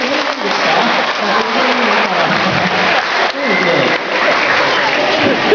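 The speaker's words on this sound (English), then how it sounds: "give him a nice big round of applause" An audience at the Knowsley sealion show applauds the sea lion Biffo, a dense, steady wash of clapping that holds loud and even for several seconds with no voices rising above it.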